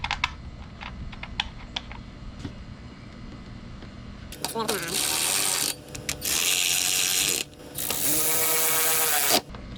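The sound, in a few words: bolts being tightened while installing motorcycle parts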